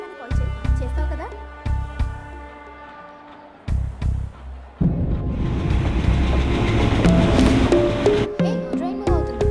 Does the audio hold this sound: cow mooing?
no